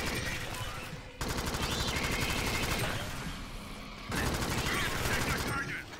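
Rapid automatic gunfire from the top-down shooter game Alien Swarm rattles in dense sustained bursts, loud and close, with a short pause between volleys.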